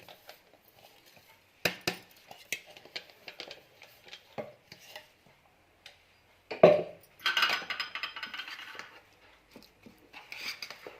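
Jaggery melted with ground peanuts and sesame seeds being stirred in a pan for til-gul laddoos, giving scattered scrapes and clinks of utensil against metal, with a denser burst of mixing noise midway.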